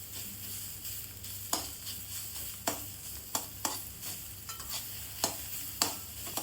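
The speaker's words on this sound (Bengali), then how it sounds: "খুন্তি দিয়ে ভালো করে শাকটাকে ভেজে নিচ্ছি" Mustard greens frying in a pan, a steady low sizzle broken by sharp, irregular clacks and scrapes of a metal spatula stirring, about eight distinct strikes, close and with no talking.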